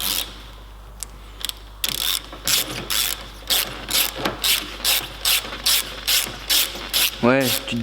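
A ratchet wrench loosens part of a car shock absorber, near the spring cup, in a workshop. Loud, close, rhythmic bursts of clicking come in repeated even strokes, with a brief whirring spin at the end.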